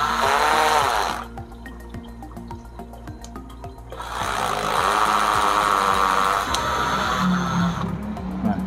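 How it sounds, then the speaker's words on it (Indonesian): A Black & Decker Multi Evo power drill whirs loudly in two long bursts, with a quieter steady mechanical hum and ticking between them. "jadi kita langsung bor saja"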